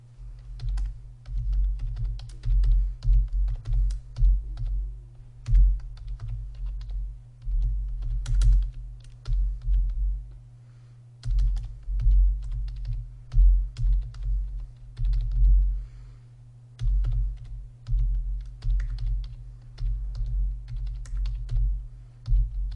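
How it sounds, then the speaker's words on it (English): Close, steady typing on a computer keyboard as numbers are entered into a spreadsheet: bursts of quick key clicks separated by short pauses, heard alone with no talking. "now we are going to type in our measured distances that we measured in our rollout"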